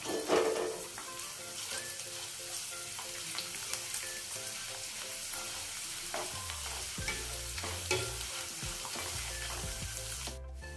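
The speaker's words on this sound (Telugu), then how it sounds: "ఈ కార్న్ఫ్లెక్స్ పచ్చివి, వీటిని వేయించుకుందాం" Raw corn flakes stir-fried in a pan for a poha and corn flake mixture, giving a constant crackling sizzle with scraping strokes of the spatula, close and steady throughout with no talking.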